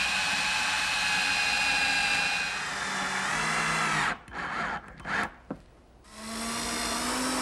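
A power drill drives screws into the wooden lid of a toy chest, its motor whining steadily up close, then cutting in and out in short bursts before spinning up again.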